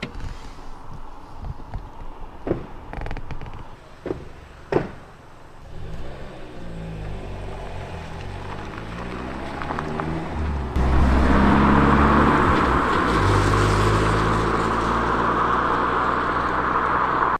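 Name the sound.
car pulling up outside a van at night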